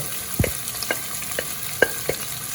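Onions and green chillies frying for mutton rolls, a low sizzle broken by a handful of scraping, clinking spoon strokes as they are stirred, close and moderately loud.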